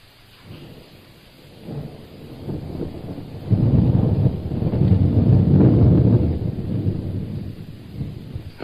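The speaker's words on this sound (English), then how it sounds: "It's a mighty grist of rain out yonder." Heavy rain pours outdoors with rumbling thunder building from a quieter start into a loud, sustained roar in the middle, then easing slightly, with no voices.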